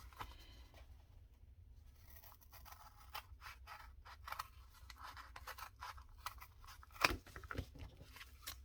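A craft project being cut with scissors, a run of soft close snips and crunchy cuts with a louder snap near the end, quiet and with no speech.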